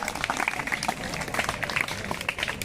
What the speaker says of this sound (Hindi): शाबाश, क्लैपिंग, तालियां बजाओ इसको